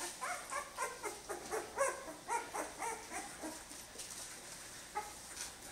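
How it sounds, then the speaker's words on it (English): Eleven-day-old Jämthund puppies whimpering and squeaking in a rapid series of short, high, soft cries, fairly close and with no talking. "These are the Ark and Ella pups"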